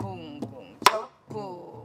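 A Korean sori-buk drum is struck in a traditional practice rhythm, giving a few separate close, dry strikes with one sharp accented hit in the middle and short gaps of silence between.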